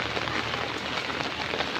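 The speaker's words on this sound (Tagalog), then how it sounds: "it's raining here" Steady rain falls across a city street in the Philippines during flooding in Dipolog City, a dense, even hiss of drops on surfaces filling the whole stretch without any voices.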